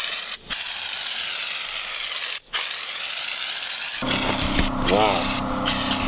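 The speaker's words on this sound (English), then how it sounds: "I'm going to start by spraying the underside of the sliders" Spray paint hisses steadily onto the underside of steel rock sliders on a Nissan Patrol GQ 4WD, broken by two brief pauses, then a voice speaks near the end over the continuing spray.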